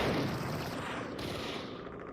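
Dense, continuous gunfire from the Max Payne shooter game, a loud, sustained volley of overlapping shots with no pauses across the whole stretch.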